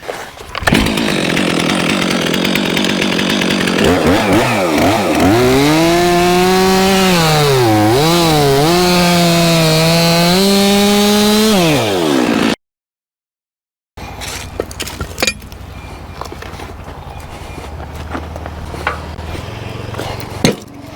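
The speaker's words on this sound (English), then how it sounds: "I can go down through about that first 10 foot and cut that into firewood rounds" Chainsaw cutting a log into firewood rounds out on a trail: the loud engine revs up and bogs down as it bites through the wood, then after a brief gap it idles more quietly.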